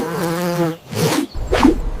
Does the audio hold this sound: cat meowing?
no